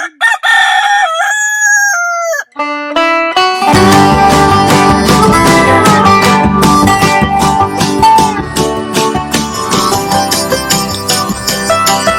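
Rooster crowing sound effect, a few loud, close cock-a-doodle-doo calls at the start, followed by bright music that carries on to the end.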